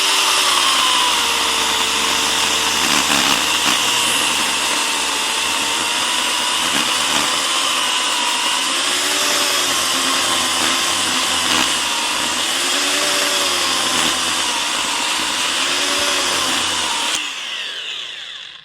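A Millian 2400 W electric chainsaw cutting through a wooden log, a loud continuous motor whine held close for about seventeen seconds, its pitch sagging and recovering under load before winding down.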